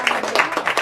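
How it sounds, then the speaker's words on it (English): Audience applauding author Laurie R King at a book event, a short burst of dense, steady clapping from a crowd close by. "let's give Lori a round of applause"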